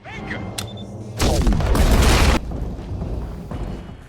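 A huge explosion levels an entire defensive headquarters in an action film, heard as a loud, roaring blast lasting about a second, followed by a lower, rumbling tail of debris and softer scene sounds.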